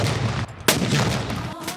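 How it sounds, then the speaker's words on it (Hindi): Artillery guns boom in an Independence Day cannon salute, one sharp, loud blast cutting through a dense, rumbling wash of noise, heard from some distance. "तलुए आफ्ताब के साथ ही फिजा तोपों की गन गरज से"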